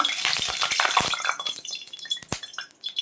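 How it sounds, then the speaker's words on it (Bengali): Turmeric- and salt-rubbed rohu fish pieces dropped into hot mustard oil in a kadai, giving a loud crackling sizzle with sharp spattering pops and a few utensil clinks, fading toward the end. "এখন আমি নুন হলুদ মাখানো মাছগুলো ভেজে নিচ্ছি"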